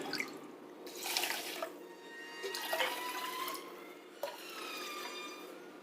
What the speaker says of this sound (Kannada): ಮೂರು ಮೂರುವರೆ ಬೌಲಷ್ಟು ನೀರು ಹಾಕಿ ಬೇಯೋದಕ್ಕೆ ಇಡ್ತೀನಿ